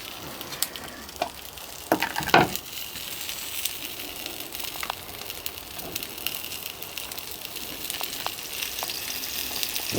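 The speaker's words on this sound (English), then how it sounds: "I think it's mushroom time now. Need a little bit of fat in here to cook them in." Mushrooms fry in fat on a shovel with a crackling, spattering sizzle and a sharp burst of popping early on, then a steady hiss with scattered pops.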